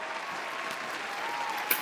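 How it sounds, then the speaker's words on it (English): Studio audience clapping steadily on a talk show set, a dense, even burst of applause throughout with no voices over it. "Clapping for our own show."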